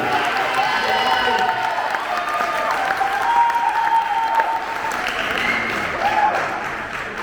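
A crowd applauding steadily at a festive evening during a Lourdes pilgrimage, dense clapping filling the room with some voices and cheers mixed in throughout.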